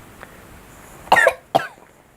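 A person's voice imitating a gerbil coughing, two short rough coughing bursts close to the microphone, the second briefer, with quiet pauses around them.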